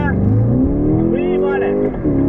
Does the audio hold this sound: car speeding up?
yes